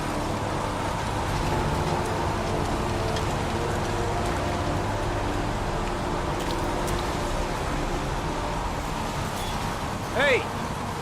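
Steady rain falls across a game scene in Heavy Rain, a continuous wash of drops and hiss with a faint low rumble underneath and a brief higher tone near the end, with no voices.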